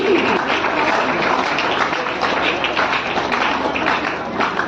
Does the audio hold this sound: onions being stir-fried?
no